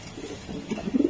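Racing pigeon cooing at close range, a short soft burst of low throaty coos that swell louder toward the end, with no voices.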